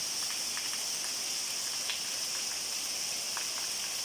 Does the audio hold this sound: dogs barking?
no